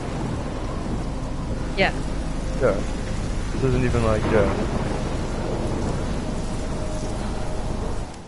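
Steady rain with rumbling thunder from the video game Life is Strange, a constant wash of noise throughout with a few louder swells, while a person talks over it.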